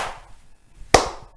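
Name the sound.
hands clapping twice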